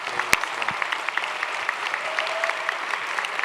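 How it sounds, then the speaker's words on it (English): Steady applause from a crowd at a video game storytelling panel, dense clapping throughout with a few sharper claps standing out, fairly close and moderately loud. "let's give another round of applause for all these great players."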